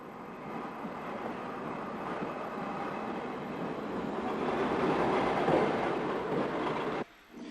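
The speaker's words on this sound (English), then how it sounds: "The 3:35 train from Westland Row to Galway passes through behind Woolwich Mogul number 377." A 1950s Irish passenger train passes through Amiens Street station behind a Woolwich Mogul steam locomotive, a sustained rumbling roar building steadily louder before cutting off abruptly near the end.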